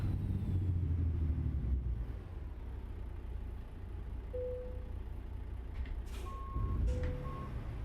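A Peterbilt heavy-haul truck in American Truck Simulator idles with a deep, steady engine rumble, while a few faint, high reversing beeps sound near the end.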